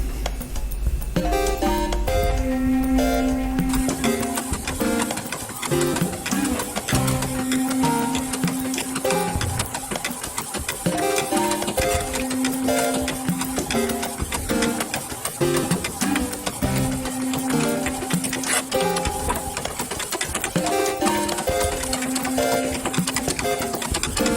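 A sublimation printer runs off a sheet of die-cut stickers, giving a steady mechanical whir with repeating rhythmic passes and motor whines, continuous and close.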